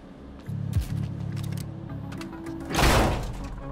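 Door forced open in the video game Quantum Break: a low mechanical hum and rhythmic clunking build up, then a loud, rushing whoosh and heavy thud near the end.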